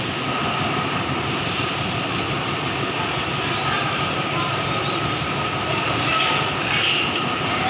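Thai ordinary passenger train 211 on the northern line, heard from inside the carriage: a steady, loud rumble of wheels on rails with continuous clattering and rattling throughout, wind and motion noise, no voices.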